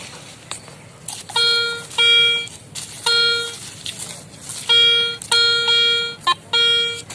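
A metal detector used for hunting old coins among pottery shards gives repeated loud electronic beeps in short bursts of varying length, with soil scraping and digging noises between them.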